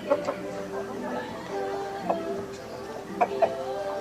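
Laying hens in a poultry yard give soft, scattered clucks and a few sharper squawks, faint against a steady background murmur.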